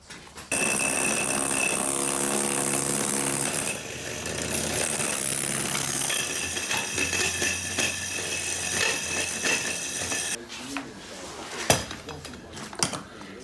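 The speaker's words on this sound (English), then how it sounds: "while I drill that last bit." A power drill bores into a kitchen wall during a renovation, a harsh, sustained whine and grinding that runs for about ten seconds, then stops and leaves a few sharp clatters and knocks.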